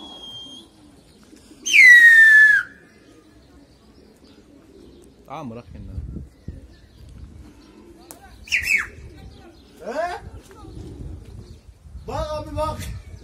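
Pigeons released in a neighbourhood flock, with several coos and whistling calls scattered over about thirteen seconds while people talk nearby.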